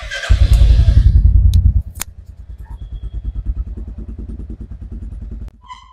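A Royal Enfield Classic 350 Stealth Black (2024) motorcycle at idle, its exhaust giving a steady low thumping beat, loudest at first during a brief throttle blip, then settling into an even single-cylinder putter close by.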